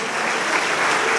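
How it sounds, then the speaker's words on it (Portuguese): A church congregation claps in sustained, dense applause, a loud, even wash of many hands with no voices standing out. "Vamos aplaudir o Senhor pela vida do Elias."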